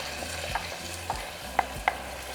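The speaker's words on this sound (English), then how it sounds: "we're going to saute for a couple minutes" Finely chopped white onion sautéing in hot olive oil in a saucepan, a soft steady sizzle broken by a few sharp clacks of a utensil stirring against the pan. No talking.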